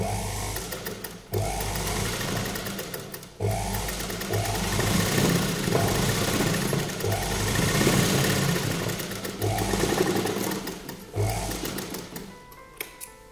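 A sewing machine runs stitches down a line on an embroidered kurta in close, rapid bursts of mechanical whirring and needle chatter, broken by short pauses where the machine stops and restarts.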